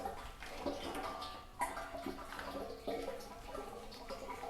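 Gearbox fluid drains from an Austin Healey 3000, a steady close trickle and splash of liquid running continuously, with a few brief louder gurgles and no talking.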